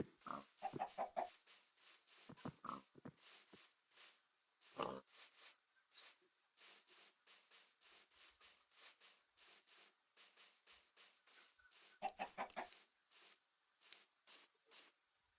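Short grunting pig oinks and clucking chicken chirps come in quick clusters with quiet gaps, faint and somewhat distant, from a Minecraft-style survival game.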